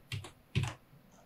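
Two quick bursts of computer keyboard key clicks, close and fairly quiet, separated by a short pause with no talking.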